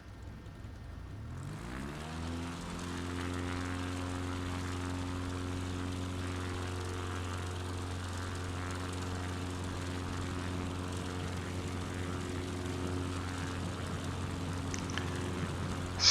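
Float plane propeller engine in Microsoft Flight Simulator 2020 spools up from quiet into a loud, steady droning hum with layered harmonic tones that holds for the whole takeoff run, with no one talking.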